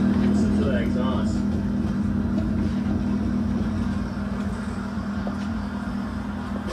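A Honda Civic exhaust rumbles in a steady low drone, fairly close and continuous, with faint background noise.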